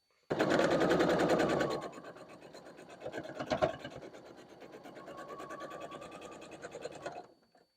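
A sewing machine stitches quilt block pieces for a barn star block in fast, rapid bursts, loud at first, then softer and steadier running before stopping, heard up close.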